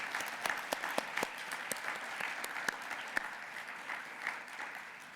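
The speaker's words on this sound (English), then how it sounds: "So I think we ought to give them a round of applause." Audience at a Federal Reserve community development research conference applauds the speakers, a steady patter of claps with a few sharp distinct hand claps, moderately close, with no talk over it.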